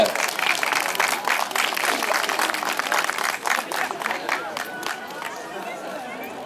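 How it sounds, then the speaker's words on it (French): Outdoor crowd applauding young cyclo-cross riders on the podium at a Châteaugiron race, dense steady clapping with crowd noise and a few voices, easing slightly toward the end. "je crois qu'ils méritent les applaudissements du public"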